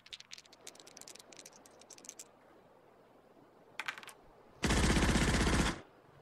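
Gunfire from the digital wargame Nations at War: a few quick rattling bursts early on, a short burst near the end, then a loud, dense second-long volley, with no talking.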